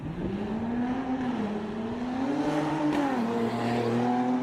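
A Mercedes SLC43 AMG with a 360-horsepower V6 drones steadily and close, its pitch rising and falling gently as the revs shift, with no one talking.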